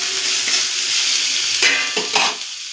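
Tomatoes go into a hot pan for a raw mango and tomato chutney: a loud, close sizzle with a couple of quick stirring scrapes of a utensil, then the hiss fades slightly.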